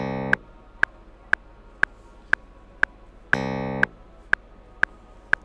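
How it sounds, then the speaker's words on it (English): A clavinet in a musical counting demonstration sounds a short, bright, buzzy note at wide intervals over a steady metronome-like click track, with no other instruments or voices. "And then the clavinet playing every beat 3 in 7 sounds like this."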